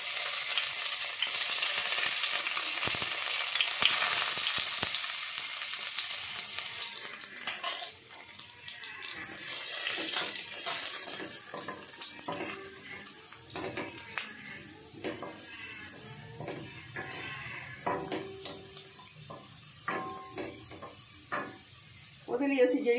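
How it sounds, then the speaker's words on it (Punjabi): Cumin seeds and garlic frying in hot ghee for savoury oats, a dense crackling sizzle that starts loud and then settles into a steadier fry with scattered pops and the odd clink of a spoon. "ਅਸੀਂ ਆਪਣਾ ਘਿਓ ਗਰਮ ਹੋ ਗਿਆ ਅਤੇ ਇਹਦੇ ਵਿੱਚ 1/2 ਚਮਚ ਜਿਹੜਾ ਜੀਰਾ ਪਾਵਾਂਗੇ।"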